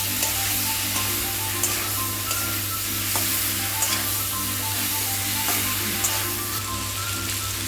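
Eggplant, bitter gourd and green banana frying together in a pan for Bengali shukto, a steady close sizzle with stirring scrapes throughout and no talk.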